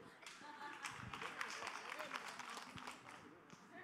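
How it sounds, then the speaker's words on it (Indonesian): A crowd claps and applauds in a quick, dense patter, with voices mixed in beneath the clapping. "Tepuk tangan dulu"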